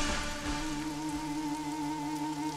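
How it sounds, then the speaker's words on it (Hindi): Heavy rain pours down steadily on a surface, a continuous dense hiss with close drop patter, alone with no voices, in a Hindi-dubbed South Indian suspense thriller scene. "इतनी बारिश हो रही"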